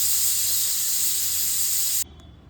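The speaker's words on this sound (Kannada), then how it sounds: "ಕುಕ್ಕರ್ಗೆ ಹಾಕಿ 4 ವಿಷಲ್ ಕೂಗಿಸ್ದೆ" A pressure cooker whistle shrieks with a steady, loud, high hiss of escaping steam for about two seconds, then cuts off abruptly, leaving a faint low hum.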